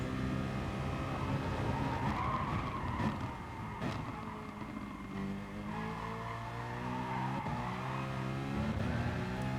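A GT race car spinning out in a racing game, a Corvette tangling with a GT-R: engines whine while tires squeal and skid in long, wavering screeches, fairly close, with no voices.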